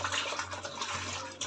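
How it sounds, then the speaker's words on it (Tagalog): Water sloshes steadily while something is soaked and washed in clean water, a continuous close wash with a low hum underneath and no talking. "ibababad ko lang to at huhugasan para naman sure na"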